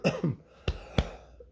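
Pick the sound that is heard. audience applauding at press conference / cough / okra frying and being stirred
cough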